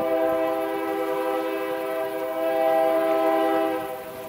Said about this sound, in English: So there might be a chance that the train will go over that bridge